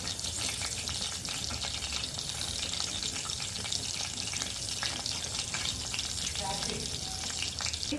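Garlic sizzles in hot oil while tempering for ulavala pappulusu, a horse gram stew, giving a steady, close frying hiss throughout with faint background clatter.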